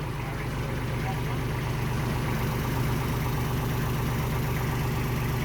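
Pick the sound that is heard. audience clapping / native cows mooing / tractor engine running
tractor engine running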